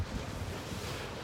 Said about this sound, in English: And the wind is just starting